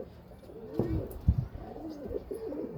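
Madrasi pigeons cooing nearby in a loft, several soft throaty coos rising and falling across the moment, with a person talking over them.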